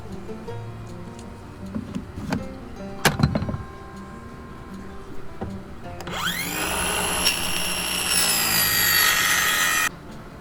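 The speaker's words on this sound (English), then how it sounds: "I'm going to cut some pieces of plywood about 3/4 of an inch" Jigsaw cutting 3/4-inch plywood scrap into pieces for a ledge, a loud steady buzzing cut running for about four seconds and stopping abruptly, preceded by quieter workshop handling and clunks.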